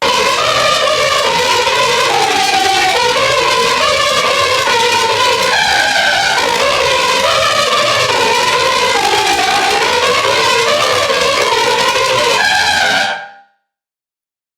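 A harsh, gritty synthesizer in dark industrial style drones loudly and continuously with wavering, buzzy tones, then cuts off abruptly near the end.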